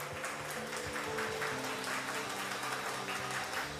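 A church congregation claps loudly in a steady, dense rhythm. The clapping carries on for several seconds over sustained musical tones.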